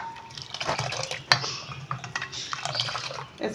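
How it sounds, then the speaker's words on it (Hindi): Quick clinking and sloshing strokes of Kashmiri chai being whisked hard in a pot with water and ice, an irregular clattering rhythm close by. "इसको आपने मसलसल ऐसे ही फेंटते रहना है।"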